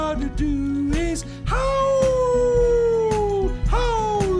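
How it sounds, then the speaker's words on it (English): A dog howling in a live-action children's show, loud and close, a few drawn-out wavering howls that slide downward, set against a musical backing. "howl! Howl!"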